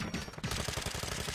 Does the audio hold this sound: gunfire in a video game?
yes